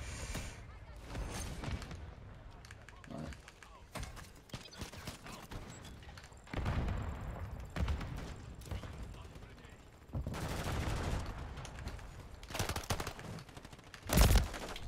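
Gunfire in the survival game Rust: scattered single shots and short bursts, some close and sharp, others duller and more distant, spread irregularly over a low background rumble.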